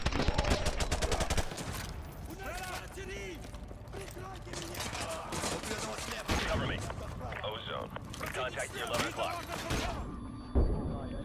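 Gunfire and bursts of automatic weapons in the Call of Duty Modern Warfare 2 Campaign Remastered, loud and dense throughout a chaotic firefight, mixed with other game sounds and voices talking.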